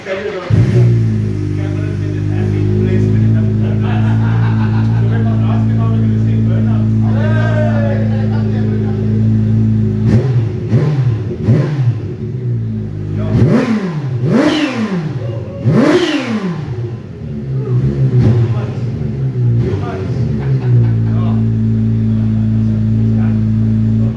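A turbocharged car engine idles steadily, then revs up and down in several sharp bursts near the middle before settling back to a steady hum, loud and close.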